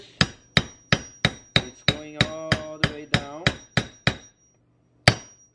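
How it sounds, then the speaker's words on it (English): A hammer taps valves into place in a cylinder head during a Mitsubishi Eclipse 2G engine build, a dozen sharp metallic knocks at a steady rhythm with a short pause before the last strike, close and alone. "You don't need to hammer too strong because it doesn't quite matter"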